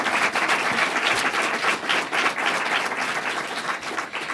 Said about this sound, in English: Let's give a round of applause for everyone who's with us today